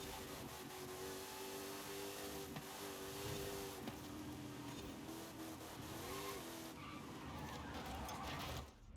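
The tires of a Noble M400 in the Forza Horizon 5 video game squeal and skid under locked brakes, sliding pitch over a steady engine drone, loud and lasting most of the stretch.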